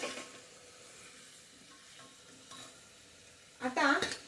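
Spiced ingredients with salt sauté in a single pot for sambar, a soft steady sizzle with faint stirring scrapes throughout, ending in a louder burst of metal spoon clatter against the pot.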